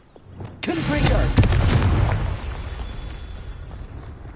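A Confringo blasting spell explosion in the game Hogwarts Legacy lands as a sharp burst followed by a booming roar that fades into a lingering rumble, with a voice in the background.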